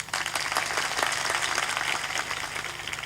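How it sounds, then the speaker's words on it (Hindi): An audience seated at a spiritual satsang gathering claps together in a dense, steady burst of applause that fills the room evenly for a few seconds. "ताली बजा दो"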